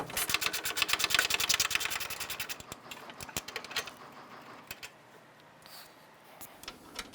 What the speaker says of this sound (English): This is going to unbolt the center beam from the radiator support.